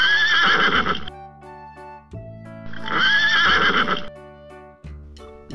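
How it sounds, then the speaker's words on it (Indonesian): Two loud, close horse whinnies from a brown horse, each lasting about a second, separated by a quiet gap with faint tonal background sounds. "Ada kuda, teman-teman."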